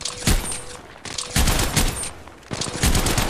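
Heavy enemy gunfire in the Apex Legends Mobile battle royale game comes in three loud bursts of rapid shots, each with a brief lull between them and no talking.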